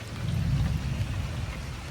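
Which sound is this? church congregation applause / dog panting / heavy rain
heavy rain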